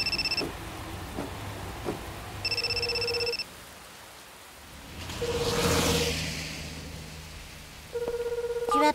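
A mobile phone ringing unanswered in the 1999 Hunter x Hunter anime, repeated electronic ring tones in bursts separated by pauses, with a whooshing sweep between rings and no one picking up.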